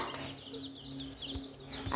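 Chickens, including chicks, make faint, soft clucks and thin chirps repeated at irregular intervals over a low steady background hum, with no voices.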